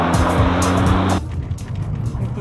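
A car engine revs loudly during a driving lesson, a dense roar with engine drone that drops away abruptly partway through into a lower rumble, close to the listener.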